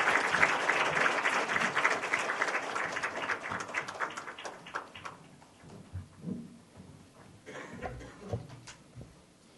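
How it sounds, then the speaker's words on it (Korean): Loud applause from a church congregation welcoming a second lecturer at a Korean-Guatemalan preaching event, dense at first and then thinning into scattered claps, with a few voices and shuffling near the end. "모실 때 큰 박수 부탁드립니다."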